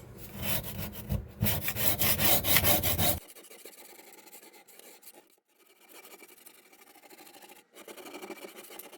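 A putty knife scrapes debris from under a laser cutter's honeycomb bed, with dense rapid rasping strokes that stop abruptly and give way to faint scratching and clinks.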